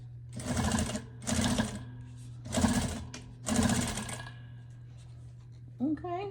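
A sewing machine runs in four short, evenly spaced bursts while stitching fabric for a quilted iPad holder. A steady hum continues between the bursts, and a voice comes in briefly at the end.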